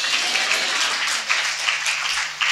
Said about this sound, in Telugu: చప్పట్లు కొట్టి స్తోత్రం.